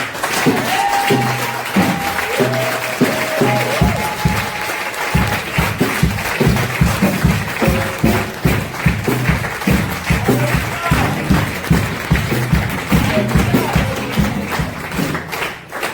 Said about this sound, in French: On acclame le Seigneur pour elles aussi.